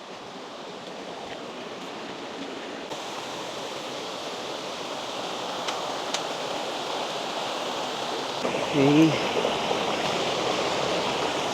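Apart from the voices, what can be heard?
river stream rushing near waterfall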